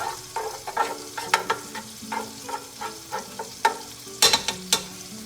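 Pot roast meat browning in a hot pan gives a steady sizzle with repeated sharp scraping and stirring clicks, close and fairly loud, alone without talk.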